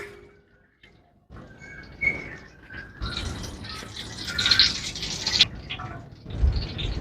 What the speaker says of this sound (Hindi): 3 किलो ऑयल डाल रहे हो आज ऑयल से बना रहे हो।